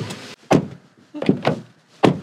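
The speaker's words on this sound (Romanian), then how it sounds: "hai să vedem cum se aude o mașină japoneză când o închizi" The door of a Honda ZR-V, a Japanese car, is shut again and again with its window open, giving four or five loud, solid thunks spaced about half a second apart, close and with no talk.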